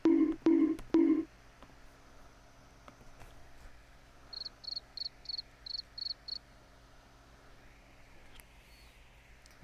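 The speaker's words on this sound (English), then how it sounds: "Got some crickets in the soundboard too" A cricket chirping sound effect plays from a soundboard as a short run of about seven quick, evenly spaced chirps, fairly clear over a quiet background, after a few louder thumps at the start.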